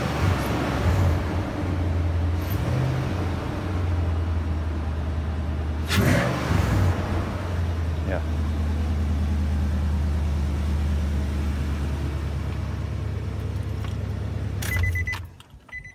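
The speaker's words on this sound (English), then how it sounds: "You can hear the air coming through" A performance-enhanced first-generation Nissan Titan truck engine idles steadily with a low, constant rumble and a rushing air-intake hiss, a brief clatter midway, then the engine shuts off near the end.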